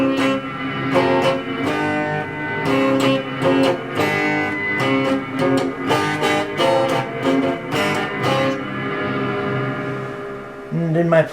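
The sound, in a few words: electric guitar with compressor sustainer and reverb effects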